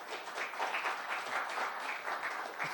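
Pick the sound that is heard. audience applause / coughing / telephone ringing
audience applause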